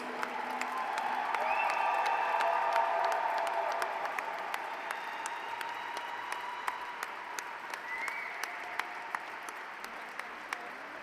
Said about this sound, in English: please be upstanding and give a huge round of applause